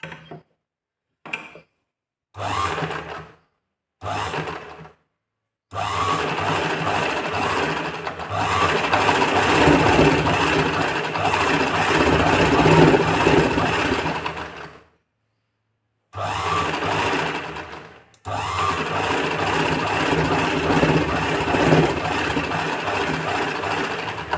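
Sewing machine stitching a fall onto a saree, starting with short bursts of whirring needle action, then long steady runs of rapid mechanical clatter broken by brief pauses, close and loud with no talk.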